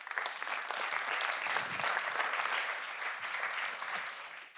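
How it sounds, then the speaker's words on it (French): At an awards ceremony, an audience gives a soft, sustained round of applause that swells briefly in the middle and fades near the end, heard from some distance. "on peut l'applaudir"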